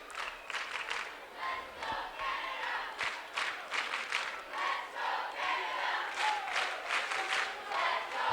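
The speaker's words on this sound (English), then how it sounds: "As the Let's Go Canada cheer starts to crank up here in Percy Perry Stadium" Crowd at Percy Perry Stadium chanting the "Let's Go Canada" cheer during a 2008 under-19 boys lacrosse game between the USA and Canada in overtime: rhythmic bursts of many voices rise and fall in a repeating pattern, moderately distant and building.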